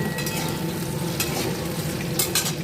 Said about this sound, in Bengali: তাই আলুগুলোকে একটু ভেজে নিচ্ছি